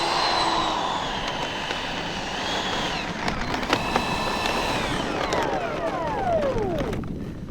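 Arrows RC MiG-29 electric jet model flying on 6S packs, a steady ducted-fan whine sweeping in pitch as it passes, with falling tones near the end as it moves away, continuous and fairly loud throughout.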